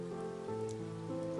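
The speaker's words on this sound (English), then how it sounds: "It's raining in the forest." Rain falling in a forest, a steady, even patter that runs without a break over a soft, sustained tonal backdrop, with no voices.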